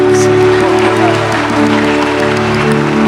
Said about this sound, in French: Applaudissons, s'il vous plaît, pour ce couple